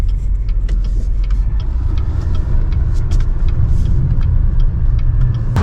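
Truck rolling over a rough road, with a loud, steady low rumble of engine and tyres throughout, close and continuous with no talking.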